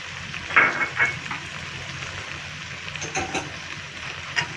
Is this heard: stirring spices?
yes